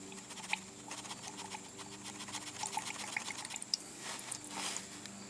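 Fuel trickles and splashes in an uneven stream from an old fuel line on a Wheel Horse 315 tractor into a container, close and fairly quiet, with small drips and clicks scattered through it.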